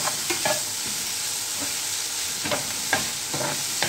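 Salted tomatoes frying for dabeli masala, giving a continuous close sizzle with intermittent spoon stirs and scrapes against the pan, fairly loud and free of talk.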